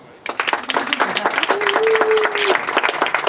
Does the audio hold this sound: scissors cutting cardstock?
no